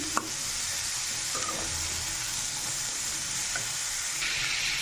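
Small brinjal pieces frying for a Rayalaseema-style vankaya fry, a continuous loud sizzle and hiss of hot oil with occasional soft stirring scrapes, no voices.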